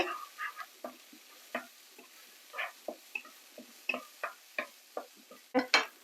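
Small irregular crackles and pops of shallots frying in hot oil for a Jaffna-style white pumpkin curry, spaced sporadically and fairly quiet, with no talking.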